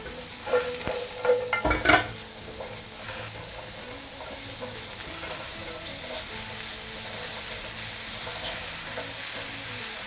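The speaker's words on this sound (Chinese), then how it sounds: "先去炒一下口蘑" Button mushrooms stir-fried in a little oil over medium-low heat: a few quick spatula scrapes at the start, then a steady, even sizzle that carries on alone and close by.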